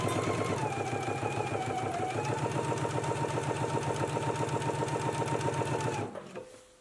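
A domestic sewing machine runs steadily, stitching a 3/8-inch seam on a garment placket, a fast, even mechanical whir with a fine needle rhythm that holds for about six seconds before stopping abruptly, with a faint motor tail after.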